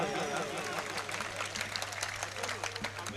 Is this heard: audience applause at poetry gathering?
yes